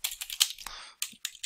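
Fingers tap out text on a computer keyboard in a quick, uneven run of crisp clicks close to the microphone, with brief pauses between bursts of keystrokes.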